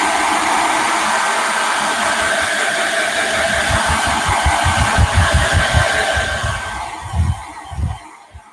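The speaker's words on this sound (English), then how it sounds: "You could use a blow dryer." A blow dryer runs continuously with a steady whirring hum while drying paint on a one-stroke painting, with a faint constant whine; toward the end, low bumps and handling noises break through as the airflow shifts.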